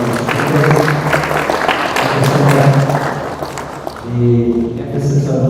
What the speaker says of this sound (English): Let's have a round of applause for both of our